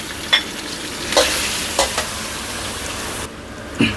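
Large shrimp stir-fry in a hot pan with a constant loud sizzle, broken by a few sharp scrapes and clacks of the spatula, close up and with no speech.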